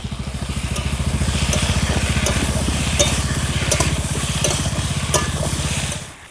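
Green chillies frying with potato and green banana in a village-style curry pan, a steady loud sizzle with fast rhythmic stirring scrapes running throughout.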